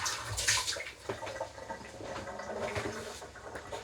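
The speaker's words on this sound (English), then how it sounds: "Let's rinse that out." Tap water runs and splashes steadily while coffee-making equipment is rinsed out at a sink, a continuous close-up wash of patter and gurgle with no voices.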